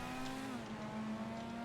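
Engine of the Pfister 811 supercar in a GTA game, heard from inside the cabin as a steady, droning hum with a held low tone that shifts slightly in pitch, no talk.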